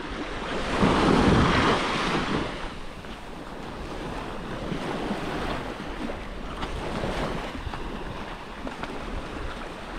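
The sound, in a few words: waves on Long Beach, Koh Rong, Cambodia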